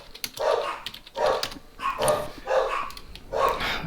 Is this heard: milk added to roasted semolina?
no